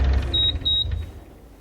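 The motion alarm on a Bobcat mini excavator gives two short, clear, high-pitched beeps, one close after the other, over a low idling rumble that fades toward the end.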